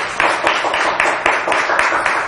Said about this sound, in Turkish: Bir alkış daha rica etsek.